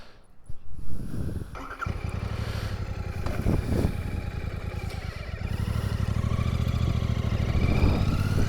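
A Royal Enfield Himalayan motorcycle engine starts and settles into a steady, close thumping run, its low rumble growing slightly stronger toward the end, with some scraping sounds early on and no talking.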